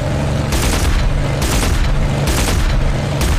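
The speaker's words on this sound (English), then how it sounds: "Look at that 20mm cannon." Rapid bursts of 20mm cannon fire from a WWII warbird in the DCS flight simulator game, loud repeated booming volleys over a constant engine drone.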